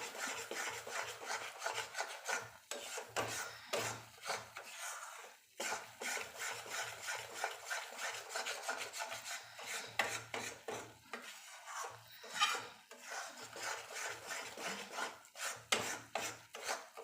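Milk being stirred in a kadai as it reduces, a soft, continuous scraping and rubbing of a spoon against the pan in irregular strokes, fairly faint and with no talk.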